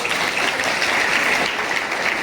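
A hall audience at a Dussehra community student-honouring ceremony in Visnagar clapping together, a dense steady wash of applause lasting a couple of seconds.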